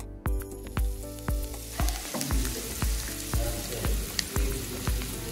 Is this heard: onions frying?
yes